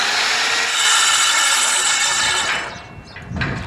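An angle grinder cuts through a van's metal roof with a loud, harsh, continuous grinding roar for about two and a half seconds, then cuts off, followed by brief scraping and handling noise.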